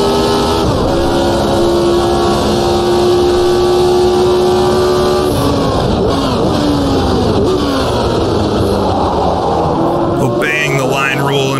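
A Lotus 72 race car's engine drones and shifts pitch through a street circuit in the racing game Automobilista 2, loud and continuous, with a voice talking over it throughout.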